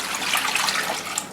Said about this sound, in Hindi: सबसे पहले आप इसमें डालते हैं पानी।